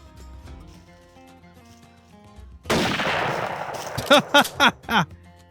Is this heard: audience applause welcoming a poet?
no